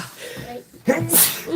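A single sharp sneeze bursts out near the end of a card game, preceded and followed by casual talk at the table.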